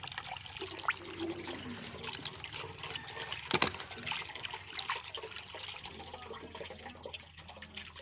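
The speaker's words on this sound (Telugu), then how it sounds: "ఇప్పుడు వాటర్ వేసి బాగా కడగాలి ఫస్ట్." Fresh pigeon pea pods being washed in water in a village kitchen, giving a continuous, fairly quiet wash of swishing, trickling and splashing close by with no talk.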